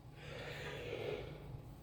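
A man's yawn, a single drawn-out breathy exhale with a slight nasal snort, quiet and close, with no words spoken.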